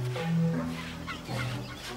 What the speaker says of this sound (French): Voici l'oiseau qui, bien avant l'homme, a inventé la couveuse artificielle, le mégapode.